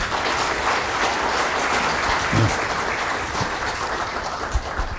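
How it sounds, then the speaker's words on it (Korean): Seminar audience applauding at the opening of a security policy event, a broad continuous patter of many hands clapping at an even level with a few louder claps near the end. "큰 박수로 시작하겠습니다"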